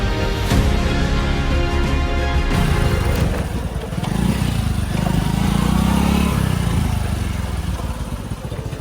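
A motor vehicle engine runs steadily and fairly loud near a parking area on the way to Poovar Island in Kerala, with a continuous droning rumble and no talk.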